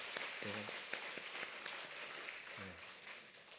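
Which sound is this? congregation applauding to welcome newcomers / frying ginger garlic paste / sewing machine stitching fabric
congregation applauding to welcome newcomers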